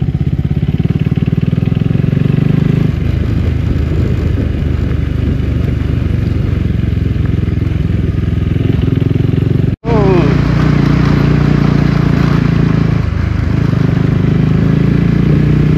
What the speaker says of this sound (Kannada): ಬೈಕ್ ಬಂದಿದೆ ಒಂದಷ್ಟು